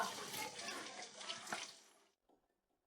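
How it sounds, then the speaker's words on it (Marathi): Running tap water pours over a scraped wound to rinse away soil and debris, a steady close splashing hiss for about two seconds before it cuts off abruptly. "खरचटलेली जागा सुद्धा वाहत्या पाण्याखाली धुवा"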